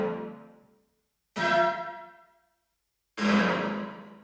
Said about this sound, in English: I'm just gonna use Ableton stock reverb,